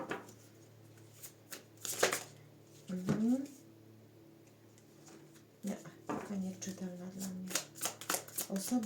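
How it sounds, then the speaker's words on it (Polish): Tarot cards shuffled by hand in short, crisp riffling bursts close to the microphone, with pauses between them and a person speaking between and over the shuffles. "No, rozsypują mi się karty."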